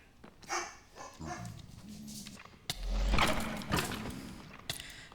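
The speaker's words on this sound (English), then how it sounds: "That was my dog Princess saying hello." A dog named Princess barks in a few close, sharp bursts with a whimpering edge, mixed with clattering game sounds and no speech.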